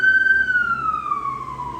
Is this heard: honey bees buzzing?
no